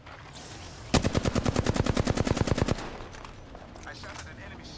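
A rapid burst of automatic gunfire in a video game, about twenty evenly spaced loud shots over roughly two seconds, then quieter game ambience and faint effects after it stops.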